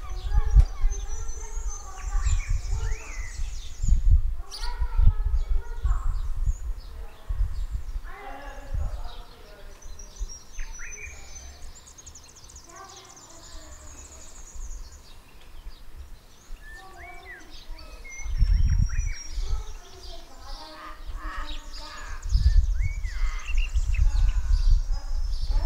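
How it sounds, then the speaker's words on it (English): Birds sing and chirp outdoors in Tasmania, with scattered high calls and tweets around a quiet rural property, while a person talks at intervals and low handling or movement noises come and go. "All you can hear is birds out here."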